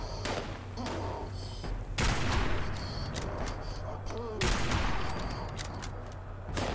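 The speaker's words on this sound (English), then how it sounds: "you guys shoot at me from shotguns all the way over there" Enemy shotgun blasts in the video game Fallout 76 boom out in two loud broadband bursts amid continuous gunfire clatter and game noise, with a voice talking underneath.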